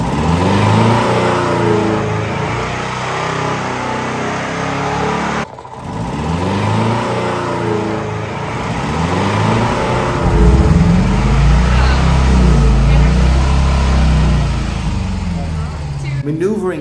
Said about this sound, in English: Maneuvering down a stairway, the raw power of a Fiat, an older one, will surprise you